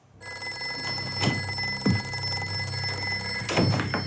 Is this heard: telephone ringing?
yes